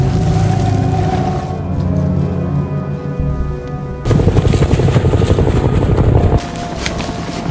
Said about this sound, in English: they hide again as an American helicopter passes by